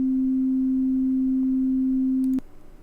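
A pure middle C sine tone generated in Desmos holds steady and clean for over two seconds, then cuts off abruptly with a faint click.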